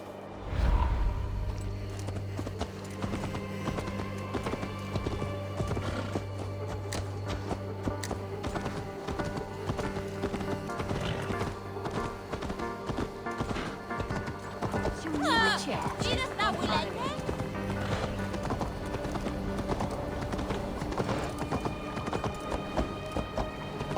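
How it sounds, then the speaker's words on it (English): A horse in the video game Assassin's Creed Valhalla gallops with steady, rapid hoofbeats throughout, while voices speak over the hooves amid game background sound. "Stop that horse!"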